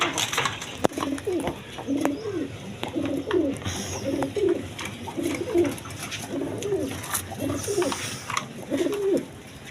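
Pigeons in a loft with birds sitting on eggs, including Jacobins, cooing in a steady repeating rhythm of soft low coos, close by, with a few sharp clicks.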